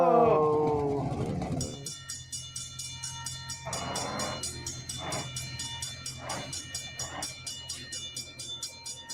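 Video game train bearing down on a bus stuck on the tracks: a loud harsh blast fades out, followed by a steady low rumble with a fast, regular clatter and a few repeated tonal bursts.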